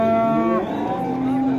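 Cattle low loudly and close by at a livestock market, a long drawn-out moo that bends downward in pitch, with faint crowd murmur behind it.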